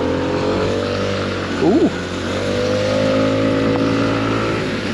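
A Lexmoto XDV125 scooter engine runs with a steady, nasal hum that swells slightly as it pulls away, with a short exclamation from a rider partway through.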